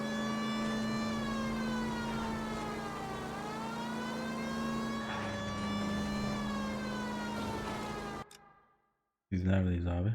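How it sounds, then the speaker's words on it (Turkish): A police car siren in the video game L.A. Noire wails steadily and loudly for about eight seconds, then cuts off abruptly; after a brief silence a voice is heard. "sirenleri yakalım da polis olduğumuz belli olsun"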